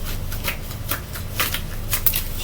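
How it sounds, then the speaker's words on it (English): A deck of tarot cards being shuffled by hand, a rapid series of crisp riffling bursts and soft slaps close by, repeating irregularly throughout with no voices. "Try to shuffle these cards"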